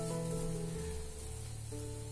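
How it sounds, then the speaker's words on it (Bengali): Food sizzles in a frying pan with a steady, continuous crackle over a low hum, loud and close throughout. "মোটামুটি 5 মিনিট ধরে এটা ভাজা হচ্ছে।"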